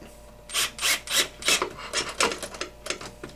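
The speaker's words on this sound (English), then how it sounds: "we're going to go ahead and use our screwdriver and tighten them up" A screwdriver tightening screws on an HPI Baja SS RC car, a close series of about ten short rasping, scraping strokes in an uneven rhythm, faint overall and with no talk.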